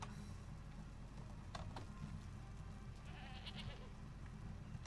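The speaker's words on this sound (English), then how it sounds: "Goats." Goats bleat in Conan Exiles, a few faint, wavering calls rising over a steady low ambient hum of the game world.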